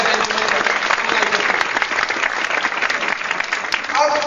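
Audience in a hall breaks into dense, sustained clapping that stays steady throughout, fairly close and loud with no break.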